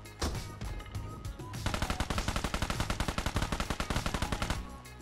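Rapid automatic gunfire from a PUBG Mobile match, loud and close: a brief opening burst, then a long steady stream of evenly spaced shots that stops abruptly, with no talk over it.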